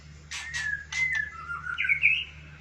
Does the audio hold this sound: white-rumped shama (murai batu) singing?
yes